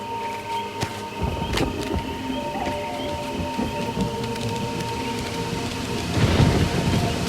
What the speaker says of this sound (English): The storm is getting closer.